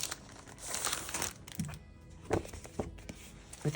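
Foil-backed celebration paper crinkles and rustles while being unwrapped and handled, with irregular crisp bursts and a few sharp crackles at close range.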